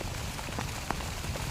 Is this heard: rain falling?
yes